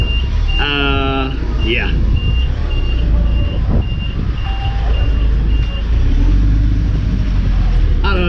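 A truck reverses close by on a windy street in Brno, Czechia, its steady beeps pulsing under engine rumble and wind buffeting, with a brief voice speaking.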